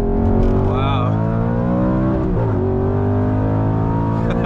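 A straight-piped Audi R8 V10 heard from inside the car gives a loud, continuous engine drone whose pitch rises and dips through revs and gear changes.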